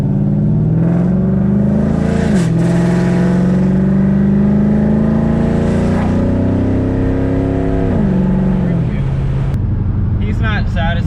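1998 Pontiac Trans Am WS6 with a torquey V8 on radial tires doing a burnout, engine roaring loud and close with rising and falling revs, heard from inside the car.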